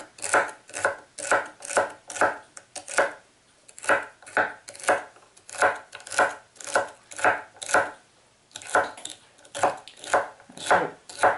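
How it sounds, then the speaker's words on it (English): A knife slices celery on a cutting board in a steady run of crisp, evenly spaced chops, close and clear, with one short pause partway through and no voices. "go ahead and slice up your celery"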